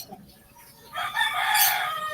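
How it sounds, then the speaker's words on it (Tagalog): A rooster crows loudly and alone, a long drawn-out call rising after a quieter start, heard early in the morning in the Philippines. "Wow, may manok pa."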